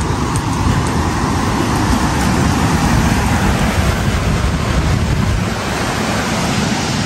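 Steady, loud roar of sea waves washing onto a beach at La Union, a continuous wash of surf with wind buffeting the microphone and no clear voices.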